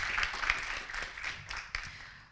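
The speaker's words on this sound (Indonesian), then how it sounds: "tepuk tangan buat UKM UKI kawan-kawan." A student activity unit gets a short burst of applause at a university orientation event, scattered clapping fading out within a couple of seconds.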